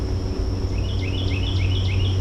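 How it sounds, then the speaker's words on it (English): A small bird chirps near an empty backyard bird feeder, a short series of rhythmic repeated high calls at moderate distance over a steady low outdoor hum. "Hear that bird? They're complaining."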